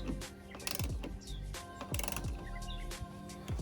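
A hand ratchet clicks in steady rapid bursts while snugging the tail light nuts on a BMW F32 440i, close and distinct, with a few short pauses between strokes.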